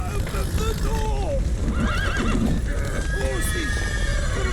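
Panicked horses in a burning stable in The Witcher 3 give several shrill whinnies over a loud, steady rumble of fire, with stamping hooves and voices shouting underneath.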